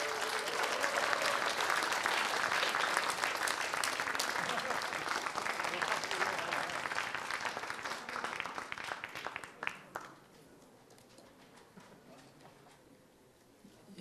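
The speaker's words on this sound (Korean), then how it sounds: "큰 박수로 환영해 주십시오." A large crowd at a political party event applauds loudly and steadily for nearly ten seconds, then the clapping fades out, leaving a quiet room tone.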